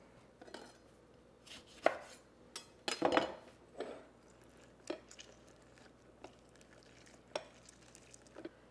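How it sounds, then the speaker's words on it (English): Vegan Greek cabbage roll filling with lemon juice is mixed in a bowl with a spatula, giving faint scattered scrapes and soft knocks against the bowl, irregular and close, with no talk. "Just mix everything all together. I'm gonna switch to a spatula."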